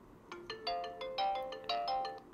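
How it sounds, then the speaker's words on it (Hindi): A Boat Storm call smartwatch plays a loud, bright, bell-like ringtone of repeating notes, clear, with no talking over it. "तो रिंगटोन काफ़ी बढ़िया है एंड काफ़ी अच्छी खासी लाउड जो है वो मिल रही है"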